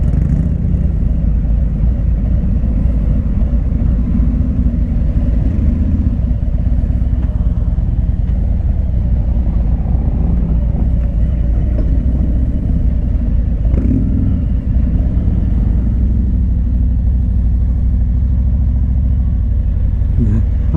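A 2022 Harley-Davidson Street Glide Special Stage II motorcycle rumbles along on the road carrying two riders, with a deep continuous loud engine drone and wind noise and no clear shifts in pace.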